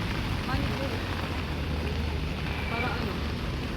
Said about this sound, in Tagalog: Nakikisilong lang kami dito kasi sobrang lakas ng ulan